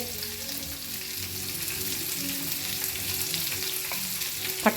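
Green chilies, curry leaves and onion fry in hot oil with a steady, hissing sizzle, moderately quiet and continuous, with a couple of sharp pops or spatters near the end.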